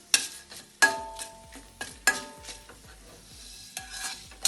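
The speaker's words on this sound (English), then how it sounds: "Next I am adding red chilli. This red chilli should be very well fried." Red chillies fry in hot oil with a faint sizzle beneath repeated sharp stirring clinks and scrapes of a spoon against the pan, several distinct strikes spaced irregularly.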